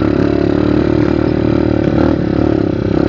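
A trail motorcycle engine runs close by with a loud, steady, throbbing idle that never lets up, and no voices are heard over it.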